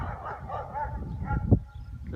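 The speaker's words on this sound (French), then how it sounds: "C'est un chien là." A dog barks once or twice at a distance, short and muffled, amid a low rumble of background noise, during a firefighter training exercise.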